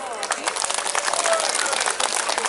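Dense applause from an audience at a village-level Islamic sermon gathering, a continuous crackle of many hands clapping throughout, with voices mixed in.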